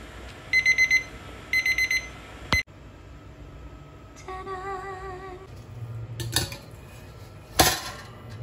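An oven timer goes off while ube cheese pandesal bakes, giving two clear bursts of rapid high beeping followed by a single beep, then quieter kitchen clatter and a warbling electronic tone.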